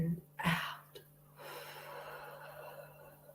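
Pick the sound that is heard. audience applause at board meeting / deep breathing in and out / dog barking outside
deep breathing in and out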